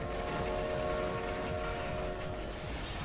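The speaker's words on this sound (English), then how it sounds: "I hear the train sound" A train in the video game Final Fantasy XIV rumbles steadily and loudly throughout, with faint horn-like tones over a continuous low rolling clatter and no speech.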